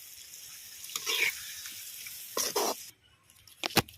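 Water splashes and pours in a few short bursts into a pan of chicken gravy, with faint sizzling between the pours.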